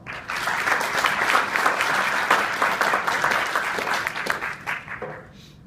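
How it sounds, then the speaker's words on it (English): An audience at an animal advocacy conference in Texas applauds the next speaker, a dense, steady wash of clapping that swells quickly and fades away near the end. "So please give him a round of applause."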